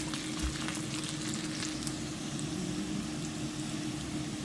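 Potatoes and onions frying in a pan, heard as a continuous soft sizzle with faint crackles and a low steady hum underneath. No one speaks.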